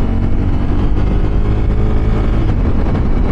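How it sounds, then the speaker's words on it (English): A 2023 Honda Africa Twin motorcycle engine runs steadily while riding, a loud, continuous low rumble with wind noise throughout and no talking. "The engine does sound very good."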